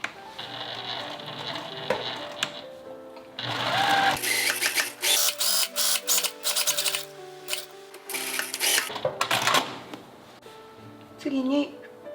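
A sewing machine stitches a 1 cm seam around a fabric pocket bag in rapid mechanical bursts with short pauses between them, while someone speaks close by.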